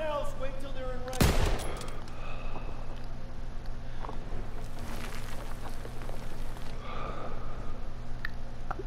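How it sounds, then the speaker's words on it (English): Sustained machine gun fire in a Call of Duty battle, with a loud close burst early on over a steady, dense crackle of distant gunfire. "MGs, open fire."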